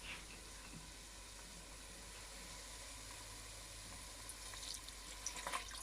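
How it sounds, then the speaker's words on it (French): Water poured into a pot of chili con carne in a home kitchen: a soft, steady, quiet trickle that runs unbroken for several seconds, with no talking. "nous allons finir par 30 centilitres d'eau"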